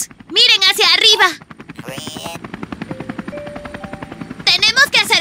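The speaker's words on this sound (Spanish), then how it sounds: "es hora de que el helicóptero aterrice" A cartoon helicopter flies in to land in a Spanish-language children's show about Leo the Truck, its rotor chopping in a rapid, steady pulse between bursts of excited character voices at the start and end.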